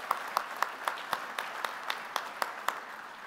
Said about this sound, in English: I also want to give them a round of applause.